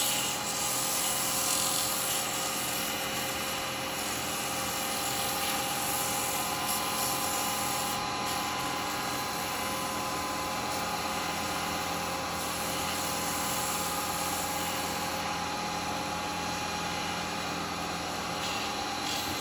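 A spinning woodturning piece on a lathe is sanded, giving a steady, loud, continuous whirring hiss that holds evenly throughout without pauses or talk.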